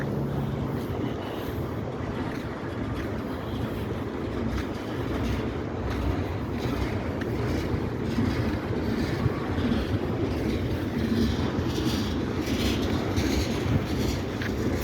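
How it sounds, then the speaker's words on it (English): A Norfolk Southern freight train with tank cars rolls past on the Delair Bridge, a steady, loud rumble of wheels on rails with faint clickety-clack and wind buffeting the microphone throughout. "it's a freight train"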